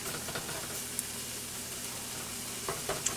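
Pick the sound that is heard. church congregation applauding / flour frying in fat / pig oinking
flour frying in fat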